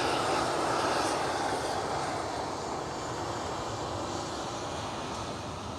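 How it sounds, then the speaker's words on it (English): Air France Airbus A319 at Schiphol Airport, a steady, fairly loud engine roar with a broad rumbling texture that fades slightly toward the end, with no voices. "With an A319"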